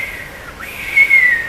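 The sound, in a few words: voice imitating audience whistling in a theatre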